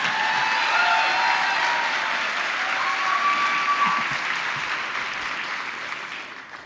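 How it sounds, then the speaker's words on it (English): An audience at a live talk show event applauds, dense sustained clapping from a sizable crowd that holds steady and then slowly begins to fade. "My mom and dad, applaud for them."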